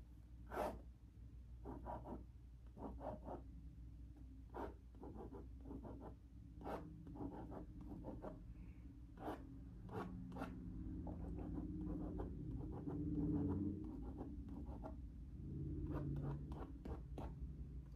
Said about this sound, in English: I'll draw it real quick.